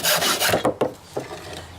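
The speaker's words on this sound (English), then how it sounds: "all you really need is a hacksaw. What you're going to do is cut the handle off." A hacksaw rasps through the handle of a squash racket in a few close, scratchy back-and-forth strokes, then pauses before one more stroke.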